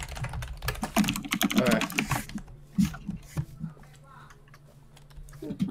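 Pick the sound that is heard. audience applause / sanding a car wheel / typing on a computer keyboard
typing on a computer keyboard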